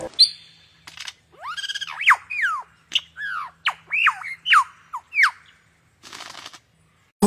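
A lyrebird mimicking the calls of other birds: a quick run of sharp squawks, whistles and chirps, loud and near against a quiet background, with a short pause before a last burst.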